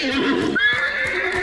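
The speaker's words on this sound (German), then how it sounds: "Das Pferd ist übrigens auch nochmal so ein kleiner Spieler, der ankündigt, dass wir da sind." A horse in the video game Hunt: Showdown gives a loud, close whinny with a rising then wavering cry, and faint hoof clops follow.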